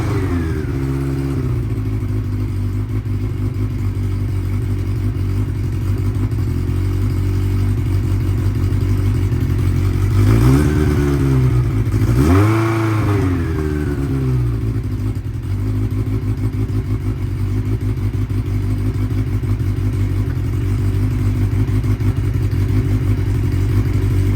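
A 1992 Honda Nighthawk 750 motorcycle engine runs with the choke fully open, idling steadily and loud up close, then blipped into two quick revs that rise and fall before settling back to a rough, even idle.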